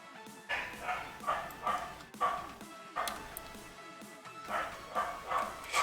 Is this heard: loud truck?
no